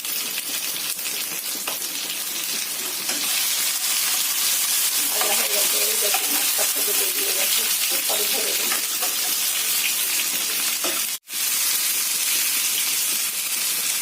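Stuffed pointed gourd sizzles steadily in hot oil in a pan, a continuous broadband hiss with faint bubbling that runs throughout, broken by one brief dropout near the end.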